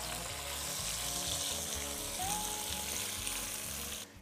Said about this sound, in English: A spatula to stir it well inside.